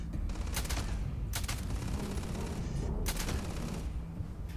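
A sniper rifle in the video game Starfield, the old Earth model, fires with loud cracks at a guard tower, about three broadband blasts spaced a second or more apart over steady game ambience, with no talk.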